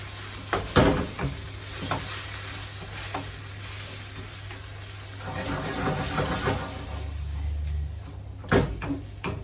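A miso honey sauce for bass, with coconut cream added, bubbles and sizzles steadily in a pan, punctuated by a few sharp clinks and stirring knocks near the start and end.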